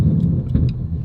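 Audi RS6 engine starting up, a loud, close low rumble with a brief crank and catch that settles into a steady idle for about a second.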